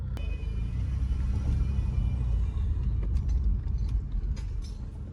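A car driving with a noticeable engine misfire, heard from inside as a steady low rumble with mechanical creaks and occasional ticks, loud and close throughout, with no talking.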